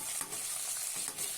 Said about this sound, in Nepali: फ्राई हुन्छ मजाले, कन्टिन्यू फ्राई भइरहेछ होइन।